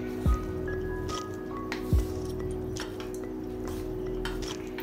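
Vegetables for avial, a Kerala mixed-vegetable dish, are stirred in a cooking pot. Two soft, wet squishes sound close by against a steady kitchen hum.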